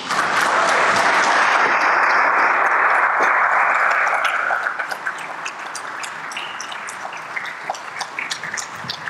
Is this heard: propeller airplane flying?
no